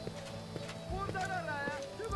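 Horse hooves clip-clop in a steady, moderately close rhythm, mixed with a brief whinny-like tone and background voices talking.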